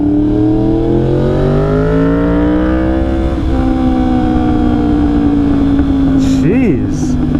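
A Yamaha R1 motorcycle fitted with an SC Project CR-T exhaust roars past on a test ride, loud and close, its engine note climbing and holding steady before a brief dip and rise near the end.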